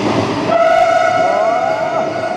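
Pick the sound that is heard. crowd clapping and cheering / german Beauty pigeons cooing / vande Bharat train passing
vande Bharat train passing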